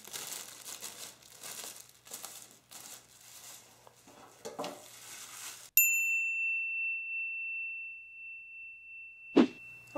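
Cellophane for a wine gift basket being crinkled and rustled in several busy bursts, followed by a sudden sharp ringing tone that sustains and fades, then one brief knock near the end.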